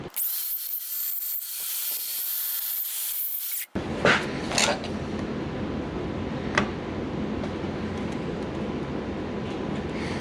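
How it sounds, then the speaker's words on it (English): A power grinder shaves down the end of a replacement power seat part for a 2013 Mazda CX-5, a steady harsh grinding for a few seconds, then cutting off into a lower rumbling hum with brief scrapes. "I'm gonna grind down the other end so it fits in."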